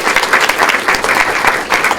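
An audience applauds panelists at a talk on the ethics of health care reform: steady, dense clapping from a sizable crowd, loud and continuous for its brief length.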